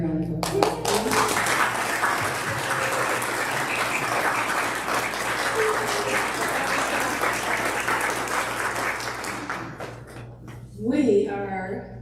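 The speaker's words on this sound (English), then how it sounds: "Let's give Reverend Dr. Hasselbeck a round of applause" A congregation at Unity of Mesa applauds Reverend Dr. Hasselbeck, loud, dense clapping that holds steady for about ten seconds before a voice begins speaking as it fades.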